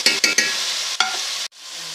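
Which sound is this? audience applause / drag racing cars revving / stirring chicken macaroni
stirring chicken macaroni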